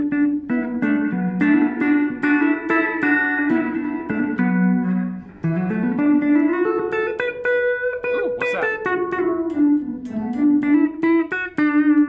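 Electric guitar played through a reverb pedal, sustained notes and chords ringing with a long wash of reverb, loud and close, continuous with no talking.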